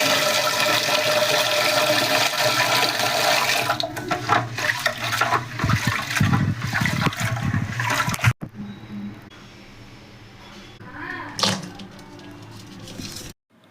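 Water rushes steadily while clothes are hand-washed at home, with a loud continuous flow that gives way partway through to quieter splashing and sloshing; no voices.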